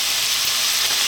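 Garlic hitting a hot pan with steak and onion over high heat, a brief, loud and steady sizzle with nothing else over it.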